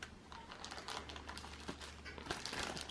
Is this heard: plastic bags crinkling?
yes